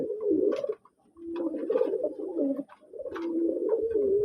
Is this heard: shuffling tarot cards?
no